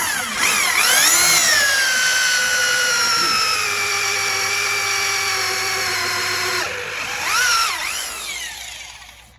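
Power drill driving into timber during a porch build, a loud whining motor that ramps up, holds a long steady pitch, then cuts out before a short second rev.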